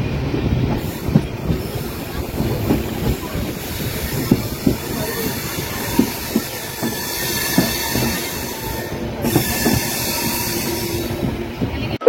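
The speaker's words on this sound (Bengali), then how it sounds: "ট্রেন আপাতত রাইট টাইমে চলছে" Padatik Express passenger train (12377, Sealdah to New Jalpaiguri) running on rails, heard from inside a crowded general coach: a steady rolling rumble with rhythmic wheel clatter and occasional squeal, loud and continuous with no talk.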